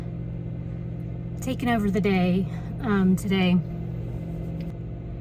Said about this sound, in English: Sorry for the car noise, but I need to warm up my car.